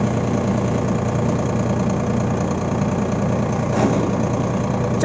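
A 2021 Farmtrac 60 Supermaxx 55 hp tractor hitched to an 11-tine cultivator runs steadily at close range, a loud, even diesel drone with a slight knock and no voices.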